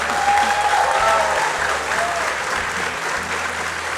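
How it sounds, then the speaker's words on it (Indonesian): A crowd of young people claps at a public gathering with the president. Loud, steady applause from many hands fills the whole stretch with no break, and a faint hum runs underneath. "Boleh minta tepuk tangannya sekali lagi?"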